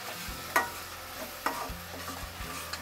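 Two blended tomatoes, pureed in a mixer, go into a pan of hot oil with asafoetida and turmeric for a green peas matar gravy; a soft sizzle runs beneath a few sharp spoon clinks and scrapes of stirring.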